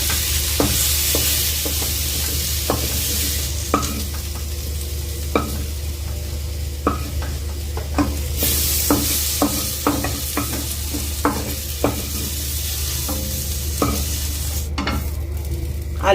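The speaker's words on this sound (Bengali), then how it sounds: "পটল আলুটা ভালো করে আবার ভেজে নিচ্ছি" Pointed gourd and potato pieces fry in a kadai with a steady, close sizzle, while a spatula scrapes and clicks against the pan in frequent irregular strokes.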